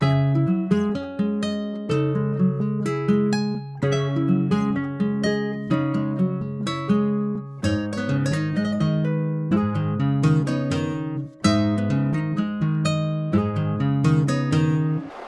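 A dry, unprocessed guitar loop repeating a steady plucked pattern with clear sustained notes, close and fairly loud, no voices.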